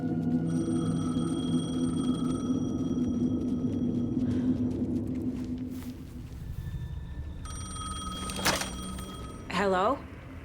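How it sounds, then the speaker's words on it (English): A payphone ringing in Alan Wake 2, heard as repeated electronic ringing tones over a low rumbling game backdrop, ending with a bright, wavering tone. "The payphone was ringing."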